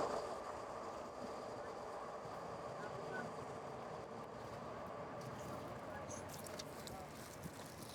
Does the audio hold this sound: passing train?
yes